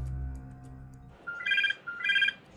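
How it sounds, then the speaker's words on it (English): A telephone rings twice in short electronic bursts, close and clear, as a call to a debt recovery company is placed, following a low hum and with no talking over it. "He arranged for John to set up a phone call with the debt recovery company"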